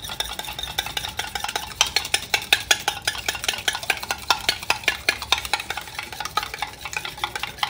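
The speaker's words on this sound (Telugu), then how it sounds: "ఈ ఎగ్ని దీంట్లో పగలగొట్టేసి మిక్స్ చేసుకోవాలి." Eggs are being whisked in a bowl, making quick, even tapping and clinking strokes close by with nobody speaking.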